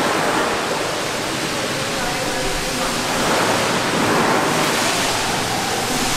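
The hot mineral-water geyser in Karlovy Vary gushes roughly 2,000 liters a minute in winter, a steady, dense rushing hiss of spraying water that fills the whole space without a break.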